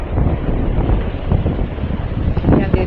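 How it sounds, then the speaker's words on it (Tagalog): Strong wind buffets an outdoor microphone in a continuous, heavy rumble with gusty surges, and a voice is faintly present beneath it. "Ang hangin dito"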